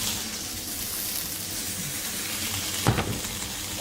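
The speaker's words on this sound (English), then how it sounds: "Okay, this is frying." Hot dogs fry in a pan with a continuous loud, hissing sizzle, close up, broken by a brief sharper clatter near the end.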